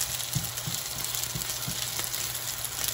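Curry fried rice browning in a pan beside a lobster tail dish gives off a steady, dense sizzle, with a few soft low thumps as it is stirred, continuous and fairly close.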